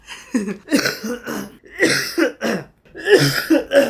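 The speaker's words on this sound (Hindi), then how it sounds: "मैं वीडियो ना खांस के बना रहा हूँ" Someone coughs repeatedly up close, harsh loud bursts in quick clusters with throat clearing between them.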